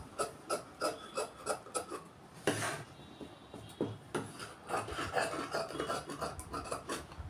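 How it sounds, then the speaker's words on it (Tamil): Scissors cut cloth for the back neck of a boat neck jacket, giving a run of rhythmic rasping snips and rubbing strokes, close and fairly loud, with a brief sharper crunch midway and no speech. "பேக் கழுத்து போட் நெக் வெட்டுவதை கவனிங்க."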